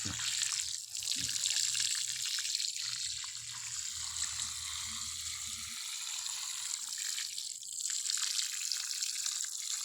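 Water is poured onto a young coconut plant, making a soft trickling and splashing that rises and falls gently over several seconds, faint and fairly close, with no speech.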